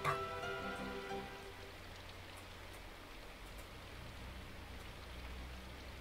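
Soft, steady rain falls in the visual novel game Symphonic Rain, a faint continuous patter with a brief tonal flourish at the start and no voices.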